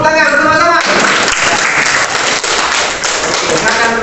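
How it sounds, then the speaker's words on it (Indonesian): A classroom of schoolchildren applauds together, dense clapping steady and loud for several seconds, with voices mixed in at the start. "Tepuk tangan bersama-sama"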